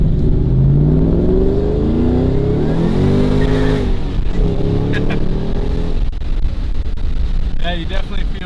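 A supercharged Shelby Mustang GT500 engine revs and accelerates with rising pitch sweeps, heavy wind rumble over the microphone, and someone speaking briefly.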